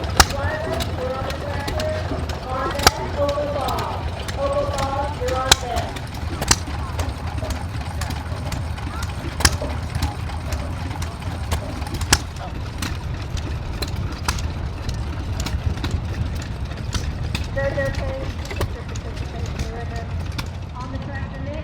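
An old steam tractor engine runs steadily at a Missouri farm show, a continuous low rumble with regular sharp clanks and puffs, while voices talk and a loudspeaker carries across the grounds.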